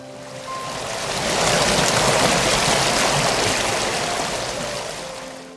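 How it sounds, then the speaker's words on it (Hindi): A flowing river stream rushes loudly and steadily, a broad hissing wash of water that swells in after the first second and holds, easing slightly toward the end, with no voices. "चॉकलेट नदी"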